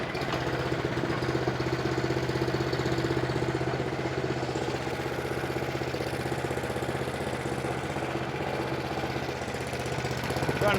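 Toro Power Max 726 OE snow blower engine running after a pull start, a loud steady close-up idle with a continuous mechanical chug and no pauses or talk.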